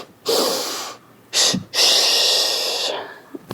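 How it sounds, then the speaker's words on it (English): Warrior breath: a sharp nasal inhale followed by a long, forceful exhale through the mouth, heard twice as strong breathy rushes up close, with a short sniff between them. "one for energizing is called a warrior breath, and you inhale through the nose and exhale out the mouth"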